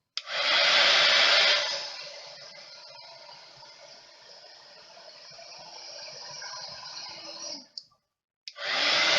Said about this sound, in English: I suddenly thought my my heat tool had given up.